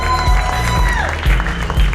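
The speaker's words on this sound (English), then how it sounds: "Give yourself a round of applause one time." Applause from a comedy club audience at a Miami Improv show taping, a steady loud patter of clapping with some crowd noise and a voice or tones running underneath.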